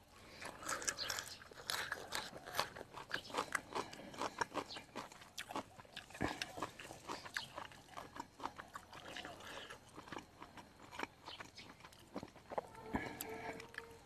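Close, crunchy chewing and biting during a northern Thai chili dip meal, with repeated crisp crunches and wet mouth sounds scattered over the whole stretch, fairly quiet.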